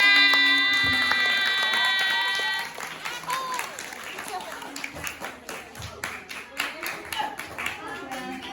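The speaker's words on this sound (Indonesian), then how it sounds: "Terima kasih jawabannya. Tepuk tangan." A small group of elementary school children claps steadily for several seconds after a brief spoken line at an Isra Mi'raj event, the applause close and lively.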